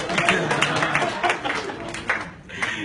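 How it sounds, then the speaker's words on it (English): Clapping from the audience at a SIIMA awards press meet in Singapore, a continuous patter of many hands that thins briefly near the end, with faint voices mixed in. "And one big round of applause once again for Purnimaji Sari."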